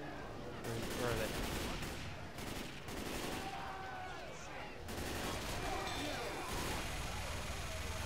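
Video game gunfire crackles in rapid bursts and volleys, loud and close, with short pauses between strings of shots and faint talk underneath.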